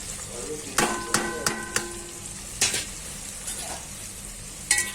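Ginger and garlic sautéing with vegetables in a pan for a veg pulao, giving a steady sizzle broken by several sharp clinks and scrapes of a stirring spoon against the pan, close and fairly loud.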